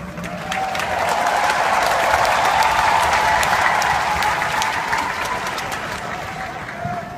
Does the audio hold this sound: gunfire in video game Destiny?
no